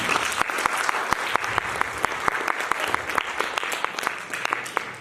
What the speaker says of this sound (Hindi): कैसा किया ये इंसाफ आपकी तालियां करेगी नौशीन खान।